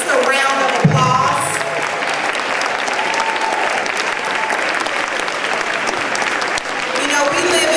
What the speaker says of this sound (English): Can we please just give everyone in here who's here to support these young ladies just a round of applause?